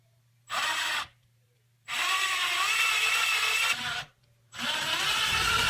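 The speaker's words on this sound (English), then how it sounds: "I've got the drill dead center in that circle" A power drill whirs in three bursts, a short one then two longer runs, its pitch wavering as the bit grinds and jams into a wooden door.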